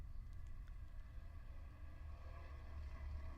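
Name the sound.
race car V4 engine exhaust note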